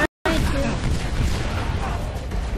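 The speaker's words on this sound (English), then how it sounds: "I just see a bunch of explosions happening now." Explosions rumble and boom in the Halo Reach video game, a dense continuous barrage of blasts after a brief silent gap, loud and close, with voices talking over the gameplay.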